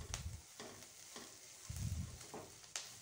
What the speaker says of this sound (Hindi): वर्तमान देखंतु रसुण टिके टिके भाजी हो आसलानी